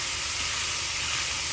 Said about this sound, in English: I'm just going to show you the beginning part of the sauteing